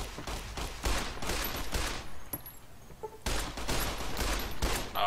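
Rapid bursts of video-game gunfire from Fallout: New Vegas crackle loud and close in repeated volleys, with a short lull midway before the shooting resumes just as heavily.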